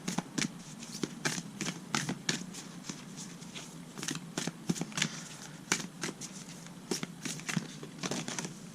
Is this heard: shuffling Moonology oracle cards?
yes